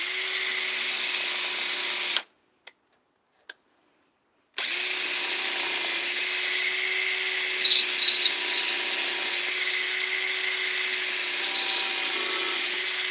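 A power drill bores into a wooden stump, its steady whine running continuously apart from one short pause midway where it stops and restarts, with no talking.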